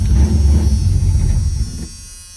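A 1985 Chevrolet C10 pickup engine that has sat a day or two cranks and catches, a loud rough rumble close by that settles and fades toward idle at the end.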